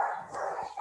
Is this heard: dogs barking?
yes